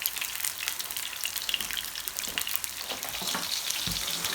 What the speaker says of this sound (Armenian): հիմա տապակում եմ բոլոր բանջարեղենը շերտերով, սխտորով և կանաչիով